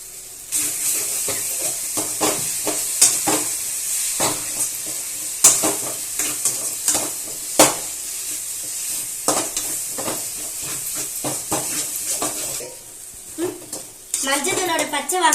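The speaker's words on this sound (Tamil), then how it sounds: "அடி பிடிக்காம நல்லா கிண்டணும்." A mango and turmeric rice mixture stirred in a hot frying pan, with continuous sizzling and repeated scraping clinks of a spoon against metal, close and loud, with a brief lull near the end.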